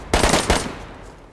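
Rapid automatic gunfire in the DayZ video game, about four quick loud shots in a tight burst, close and sharp, then fading out with no talk.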